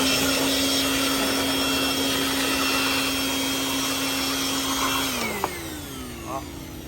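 A steady, loud whooshing roar of an air blower cleaning a Honda Civic engine bay runs continuously, then cuts off near the end, leaving a quieter hum and a brief click.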